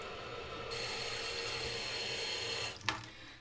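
Water running from a tap into a sink, a steady close rushing hiss for about three seconds that ends with a brief clunk as it is shut off; no one speaks.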